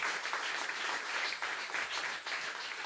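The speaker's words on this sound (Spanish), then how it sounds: "Pastor amigo, con un fuerte aplauso" A church congregation gives a strong round of applause for the pastor, continuous mid-distance clapping that stays fairly even throughout.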